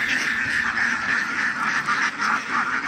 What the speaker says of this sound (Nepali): ल हेर्नु हाँस लगभग यहाँ 5-6 हजार हाँस छ अरे